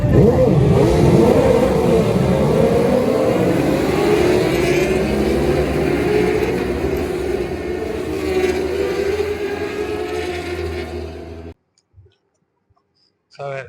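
Motorcycles launch at the start of an endurance race at Oulton Park, a loud pack of engines revving and accelerating away together, fading into the distance before cutting out abruptly.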